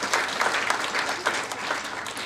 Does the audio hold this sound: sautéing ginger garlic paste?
no